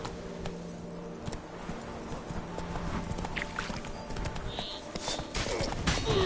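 Geralt's horse Roach in The Witcher 3: Blood and Wine trots with quick, steady hoof clip-clops at moderate volume, along with ambient game sounds and a brief voice.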